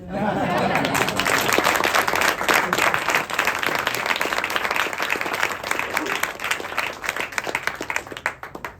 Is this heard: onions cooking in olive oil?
no